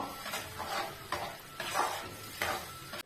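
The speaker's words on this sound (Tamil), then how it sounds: "அடுப்பு வந்து நம்ம கொஞ்சம் ஸ்லோவாக வச்சுட்டு நல்லா கிளறி விட்டுட்டே இருக்கணும்" Tamarind upma being stirred in a pan over a low flame, with soft scraping strokes repeating every half second or so over a quiet sizzle, close by and steady.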